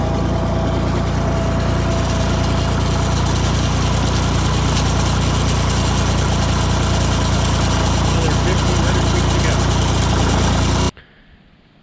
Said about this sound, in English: the tractor pulls the weight just fine